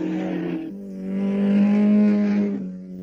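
GT race cars on the 1965 Targa Florio road course, among them small Abarth and midget GTs, pass close by with a tonal engine drone that swells and fades over a few seconds.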